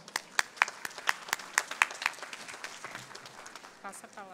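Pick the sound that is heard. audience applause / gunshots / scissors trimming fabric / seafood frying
audience applause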